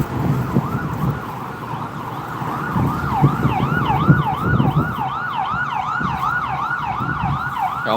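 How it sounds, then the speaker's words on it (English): A Gettysburg ambulance siren wails in a rising and falling cycle, growing steadily louder as it approaches over a low rumble of traffic. "Here comes the Gettysburg ambulance."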